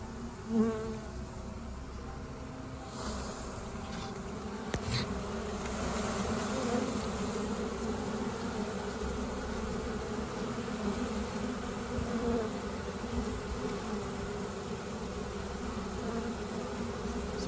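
A swarm of honey bees crowded in a bucket gives a dense, continuous buzzing hum, fairly faint but steady and unbroken, with a few louder individual bees passing close.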